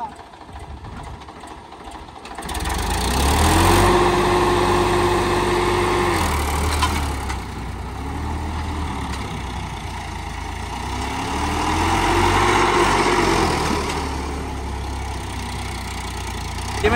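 A tractor engine runs steadily at close range for the whole stretch, with a low rumble and rising and falling tonal whine as revs change, while voices talk over it.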